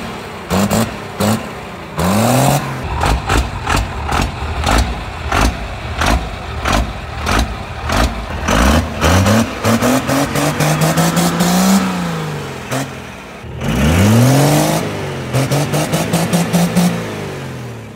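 Large 2nd Gen Cummins diesel dually truck engine cranking and firing up, then repeatedly revving with rising and falling engine tones and rattling clatter, loud and close.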